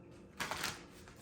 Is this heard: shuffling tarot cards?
yes